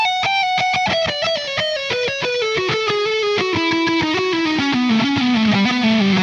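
Distorted electric guitar plays a solo lick slowly, a steady stream of rapid picked notes stepping downward in pitch over six seconds, loud and close with no talk.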